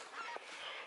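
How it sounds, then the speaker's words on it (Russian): A single faint, brief goose honk sounds at a distance over steady outdoor background noise during a spring duck hunt in Belarus. "О, гусь."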